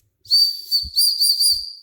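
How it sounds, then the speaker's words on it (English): A whistle built into a survival pen sounds in a few sharp, shrill blasts, near and loud, with brief breaks between them and no talking. "That's the whistle."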